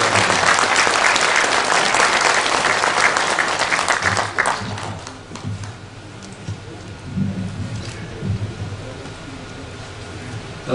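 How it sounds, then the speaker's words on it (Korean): A lecture audience gives warm, sustained applause for the speaker Cho Gab-je at a special talk in Yangpyeong. The clapping is dense and loud for about four seconds, then thins to scattered claps and murmur. "여러분 조갑재 선생님을 다시 한번 뜨거운 박수로 환영합니다."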